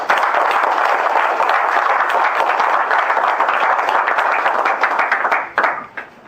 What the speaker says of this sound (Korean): 큰 박수를 한번 보내주시면 정관을 통과시킵니다